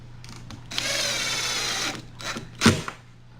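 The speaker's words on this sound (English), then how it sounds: "I just see once my drill ratchets like once or twice" A power drill driving door knob screws during a door knob installation, one short burst and then a sustained whirring run of about a second, ending in a few brief ratcheting bursts, close and fairly loud.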